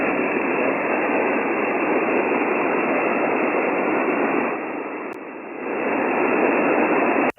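A ham radio signal on an Icom HF rig fades into a steady hiss of static, a dense noise floor that dips briefly near the end before swelling back, with no voice heard.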